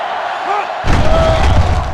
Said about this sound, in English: They're really struggling now as this crowd is going absolutely insane.